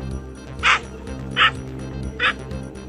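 A dog gives three sharp, high yelps about a second apart while caught by a snake, each one loud and brief over a steady background hum.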